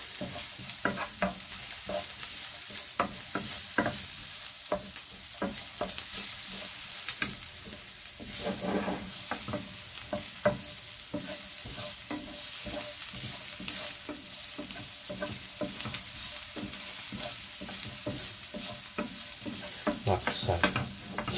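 Garlic sizzles steadily in a hot pan for chilli con carne, a dense continuous frying hiss with scattered crackles and pops throughout, close and fairly loud, with no talking.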